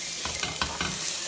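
Chopped onion stirred into a cooking pot still coated with duck drippings, giving a few soft scraping strokes with a light sizzle underneath, close and fairly quiet.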